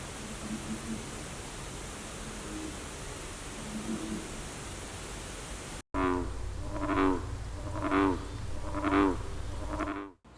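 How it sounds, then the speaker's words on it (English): Hiss gives way to a series of rhythmic, low croaking bullfrog calls from a marsh, amplified and distorted, about five harsh pulses in a row over steady noise. "distorted calls of a bullfrog coming from the marsh behind the hospital"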